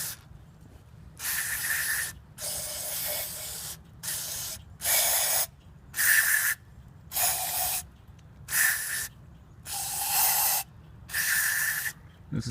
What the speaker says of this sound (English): give it some good sprays.